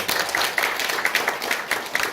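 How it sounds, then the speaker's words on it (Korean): Dense, steady applause from a crowd, many hands clapping together at close range with no voices standing out. "박수 부탁드리겠습니다"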